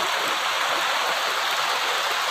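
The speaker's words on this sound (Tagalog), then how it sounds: "Ay, umulan na." Rain falls outdoors in a rural provincial setting as a dense, even hiss that fills the short clip at steady loudness, with no voices over it.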